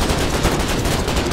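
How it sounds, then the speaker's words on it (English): Rapid, steady gunfire in a Foxhole tank battle around a modified Silverhand tank, a loud unbroken string of shots lasting little more than a second. "It's a modified Silverhand that fires 250 mil."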